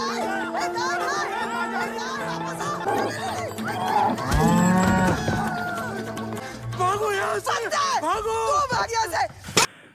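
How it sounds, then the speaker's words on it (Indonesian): A hungry cow turns wild and frightened in a scene from an Indian film, letting out loud, drawn-out moos over a busy soundtrack with other voices and background noise, with a second lowing call toward the end. "saat mereka membawa sapi yang kelaparan, tiba-tiba sapi itu menjadi liar, seakan-akan ketakutan melihat sebuah sosok"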